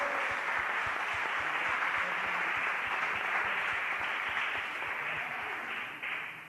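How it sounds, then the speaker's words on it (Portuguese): A church congregation at a Tuesday service claps together in a dense, steady wash of applause with a rhythmic beat running through it, sustained for several seconds before easing slightly at the end. "Pode aplaudir o Senhor, porque Ele está fazendo"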